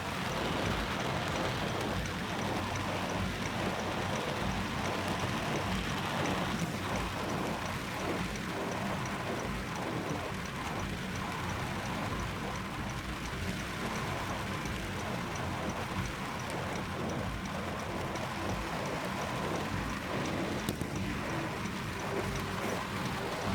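Heavy rain pours down steadily in a dense, continuous roar on a road, loud and unbroken throughout, with no one speaking.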